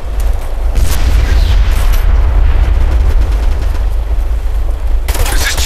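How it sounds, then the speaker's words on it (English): Heavy gunfire in the Operation Flashpoint: Red River military shooter, taking fire from a factory: a loud, dense, continuous barrage of rifle shots and booming impacts that roars without a break, with a brief sharper burst near the end. "We're taking heavy fire from the factory."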